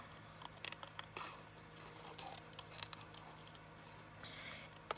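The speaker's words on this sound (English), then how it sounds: "by using the spring-loaded scissors, it makes things easier on my hands." Spring-loaded scissors cut through paper during cardmaking: a quick series of quiet, close snips and crisp paper rustles in an irregular rhythm, faint and alone.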